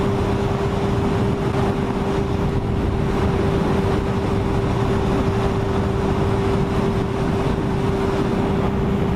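A Honda 954 sport motorcycle riding along an open country lane in freezing weather, giving a steady, loud, continuous engine drone with a sustained tone and heavy wind rush, unbroken throughout and with no talking.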